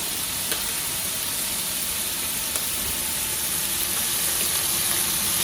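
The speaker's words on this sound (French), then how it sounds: "Il faut que les lardons soient un petit peu dorés." Lardons sizzle steadily in a frying pan while being cooked for Cantonese fried rice, a continuous close hiss with a few faint clicks and no talking.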